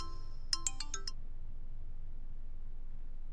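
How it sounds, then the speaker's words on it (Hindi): A short, bright phone ringtone plays a quick run of high melodic notes, then cuts off into quiet background hum. "हुकुम का फोन।"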